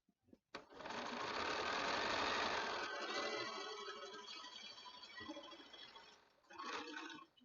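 A sewing machine runs in a steady, close whir while chain-piecing quilt pieces for an arrowhead quilt pattern, slowing briefly and then starting again near the end.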